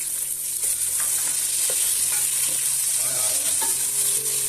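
Onions fry for biryani with a loud, constant sizzle and occasional stirring scrapes of a utensil in the pan, close and uninterrupted by speech.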